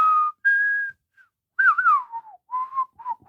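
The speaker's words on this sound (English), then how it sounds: "why are you whistling?" A person whistles a Western film tune alone and close: long sustained notes, then a sliding, wavering phrase and a few shorter clipped notes, clear and fairly loud.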